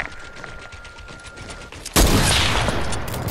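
Video game gunfire erupts suddenly into a loud sustained burst of rapid shots after a quieter stretch of game ambience.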